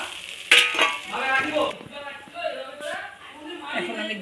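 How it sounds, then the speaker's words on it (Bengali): Spice paste with turmeric and salt sizzles and fries in a pan for a fish dish, a steady close hiss with a few sharp crackles, running under continuous talking. "এখন মশলাটা ভাজা ভাজা হয়ে এলে আমি এই কাঁচা মাছগুলোকে দিয়ে দেব।"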